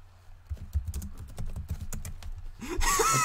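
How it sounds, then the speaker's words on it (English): Fast typing on a computer keyboard, a close run of sharp irregular key clicks and taps, with a voice starting up at the very end. "I was typing."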